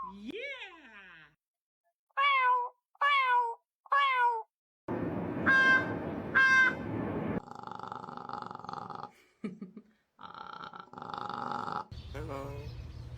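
Pet crow calling indoors in a series of short, loud, harsh croaks and squawks, some drawn out and gurgling, with pauses between them and a person speaking at times.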